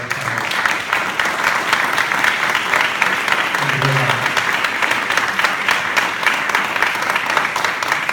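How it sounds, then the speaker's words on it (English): A crowd applauds the mayor at a 2017 Tacoma mayoral debate, with continuous, even clapping from start to finish and a brief low voice partway through. "How about a round of applause for the mayor?"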